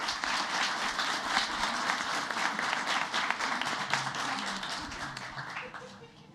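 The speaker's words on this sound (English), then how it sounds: "One more round of applause for Southbury." Audience applause at a school board of education meeting, a steady spread of clapping from a seated crowd lasting several seconds before fading slightly, with some background voices mixed in.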